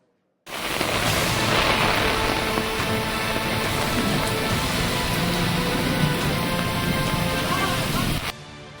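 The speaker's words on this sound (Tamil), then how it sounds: "திடீரென்று கருமேகங்கள் சூழ்ந்து பகலை இருட்டாக்கி பலத்த காற்றுடன் மழை பெய்தது." Heavy rain pours steadily with gusting wind during a sudden storm after a hot day in Chennai, a dense, continuous wash of noise that holds at the same loudness throughout and cuts off abruptly near the end.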